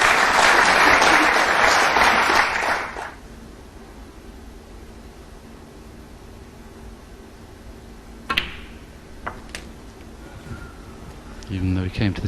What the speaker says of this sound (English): I thought the applause there was a little bit premature.